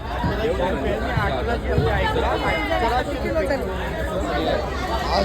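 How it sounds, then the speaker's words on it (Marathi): Dense crowd chatter fills a busy Karanja fish market, many overlapping voices and calls forming a continuous, loud hubbub with no pauses. "जाम गर्दी झालेली"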